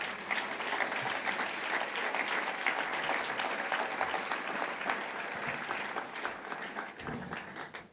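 A church congregation applauds during a worship service, dense sustained clapping from many hands filling the room, steady throughout and easing slightly toward the end.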